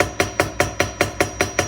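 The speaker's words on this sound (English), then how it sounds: "Even it sounds very loud when I'm tapping" Light hammer taps on jewelry wire while shaping a simple bracelet, nine crisp, evenly spaced metallic strikes about a fifth of a second apart, close and fairly loud with no talking.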